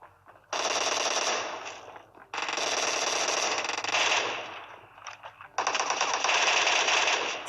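An MK14 rifle fires in a video game, three loud, close bursts of rapid automatic gunfire separated by short pauses.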